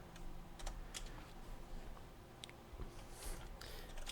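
Keys clatter on a computer keyboard in a quick, steady run of soft taps, close and fairly quiet, with no voices.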